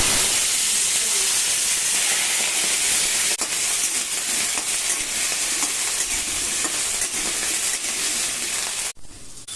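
Potatoes and eggplant fry in hot oil with bay leaf and whole cumin, giving a loud, steady, close-up sizzle and hiss that runs continuously before cutting off abruptly at the end.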